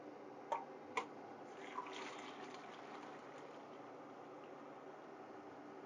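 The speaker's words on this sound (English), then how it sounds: "strain through my colander" Pasta cooking water is strained through a colander, a faint soft trickle and splash with a couple of sharp metallic clicks near the start, heard alone.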